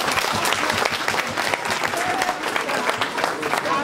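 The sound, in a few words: audience applause at a celebration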